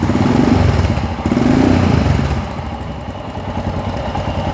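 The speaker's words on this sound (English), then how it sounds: "And the bike is cold, but I'll give it some very," Royal Enfield Himalayan 411 motorcycle engine running cold, with two gentle swelling revs followed by a lumpy, chugging idle close by.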